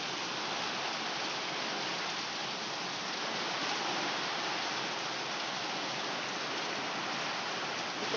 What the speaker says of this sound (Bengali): চলো আমরা একটু বাইরে থেকে দেখে আসি কতটা বৃষ্টি হচ্ছে